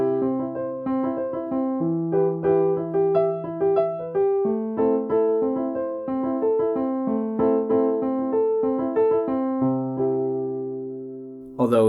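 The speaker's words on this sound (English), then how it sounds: "One is playing a pattern on the chords that sounds a bit like this." Piano in a pop song plays a repeating chord pattern, with clear tonal notes struck rhythmically in steady broken-chord figures and sustained bass notes that shift every few seconds, heard alone without talk.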